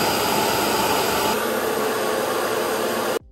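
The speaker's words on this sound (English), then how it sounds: "When the robot is finished or when the dustbin gets full, it will return to the base and auto-empty, which is actually kind of loud and a little alarming." A robot vacuum's docking base auto-empties its dustbin with a loud, steady roaring suction, like a small jet or hair dryer. It holds constant for about three seconds, then cuts off abruptly.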